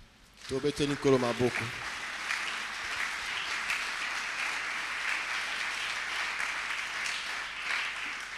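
A church congregation breaks into loud, sustained applause for the Lord, a dense wash of clapping that keeps going with no break after a brief voice at the start.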